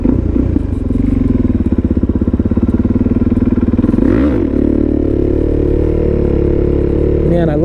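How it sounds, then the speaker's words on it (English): A motorcycle engine holds a steady, loud drone while the bike rides a wheelie, with a brief swell and pitch shift midway before settling back into the even engine note. "Man, I love how easy this bike is to wheelie."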